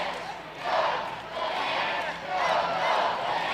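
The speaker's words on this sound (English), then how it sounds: "Go Bananas chant reverberating through Grayson Stadium." A Savannah Bananas stadium crowd at Grayson Stadium chants "Go Bananas" in loud, rhythmic surging waves that echo through the ballpark.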